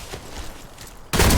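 A loud, dense burst of close gunfire from Warface starts abruptly after a second of rough, noisy game background, with no talk.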